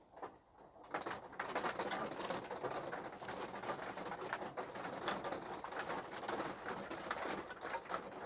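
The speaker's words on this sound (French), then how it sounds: "désolée si vous entendez la pluie," Heavy rain pours steadily outside, a dense continuous hiss that holds at an even loudness throughout, with scattered soft taps and no speech.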